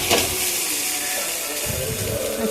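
Khekhsi (spiny gourd) frying in a pan gives off a loud, steady sizzling hiss that runs without a break, with light clatter toward the end.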